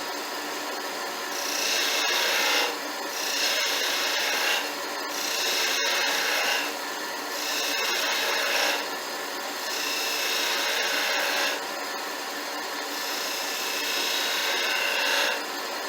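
Skew chisel shaving wood on a lathe, its bevel riding the spinning workpiece; bursts of close, scraping cutting noise rise and fall in repeated strokes over the steady hum of the turning lathe.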